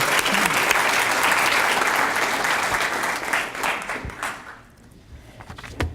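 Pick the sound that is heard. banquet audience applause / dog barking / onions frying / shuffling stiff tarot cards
banquet audience applause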